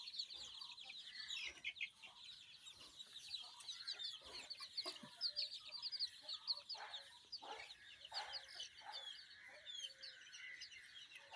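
Sonali chickens cluck and chatter on a poultry farm in a steady stream of short, overlapping calls, with occasional sharper squawks over a faint background.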